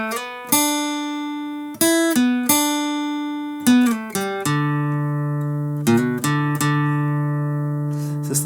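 An acoustic guitar plays a short riff, plucked notes each ringing out and decaying, with a few quick slides and a sustained lower note near the end.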